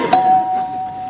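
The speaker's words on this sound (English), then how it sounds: "Oh, that's the doorbell." A household doorbell gives a single short electronic ding that holds as a steady tone for about a second, clear and fairly close, with no talking.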